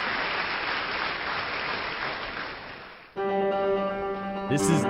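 Recorded applause in a song sounds as a dense, steady wash of crowd clapping that fades and then cuts to sustained musical tones.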